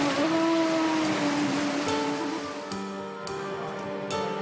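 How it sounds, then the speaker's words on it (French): Sea swell and waves on the Tunisian coast, a steady broadband wash of surf with a few sharp splashes and a faint tonal hum in the background. "La houle et les vagues l'emportent."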